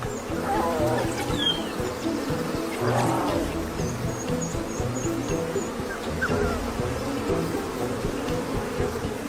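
A dense swarm of angry African honeybees buzzes continuously and loudly, close by, with a few faint bird calls and rustles mixed into the drone.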